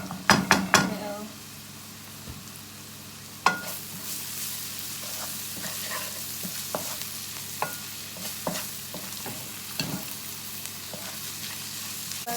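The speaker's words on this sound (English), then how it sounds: "the onions in the oil that I put in here, it's olive oil." Onions fry in olive oil in a pan at home, giving a steady, close sizzle broken by spoon-stirring scrapes and clacks, with a few louder knocks at the start.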